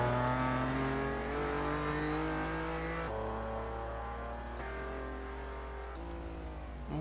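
A Lamborghini Countach engine in Assetto Corsa at the Nordschleife sings loud and steady, revving up through the gears with brief dips at each shift, continuous and close with no voices.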